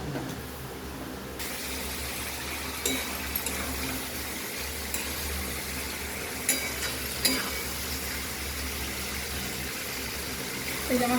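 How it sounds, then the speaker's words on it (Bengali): Spices for raw banana kofta curry sauté in a covered pan with a steady, muffled sizzle and a low background hum, broken by occasional soft clinks and taps. "সব মশলা দিয়ে কষানো হয়ে গেছে"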